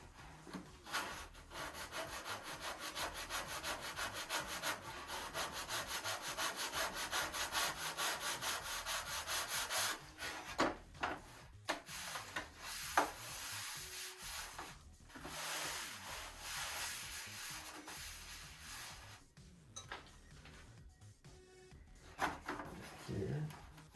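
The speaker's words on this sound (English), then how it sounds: "Let's sand a little bit right there." Sandpaper rubbing over balsa wood on a Top Flite P-40E Warhawk model airplane during wheel well and top wing sheeting work, a steady close scratchy scrubbing that runs continuously, then breaks into shorter strokes and pauses.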